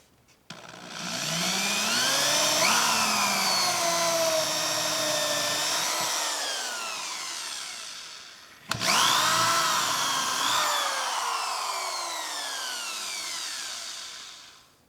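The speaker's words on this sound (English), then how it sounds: "And then I'm going to drill it out." Power drill bores a hole through a wooden board with scrap backing underneath, a loud whining motor that rises and sags under load in two long close runs, no talking.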